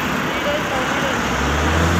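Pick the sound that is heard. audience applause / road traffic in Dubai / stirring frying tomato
road traffic in Dubai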